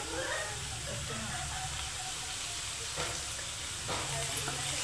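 Onion and spices fry in a pan for a chicken curry, giving a steady close sizzle and hiss with occasional stirring scrapes, continuous and fairly even in level.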